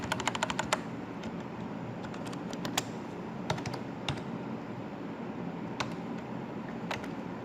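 Close, fast typing on a computer keyboard, with irregular bursts of sharp key clicks over a steady low room hum and no voices.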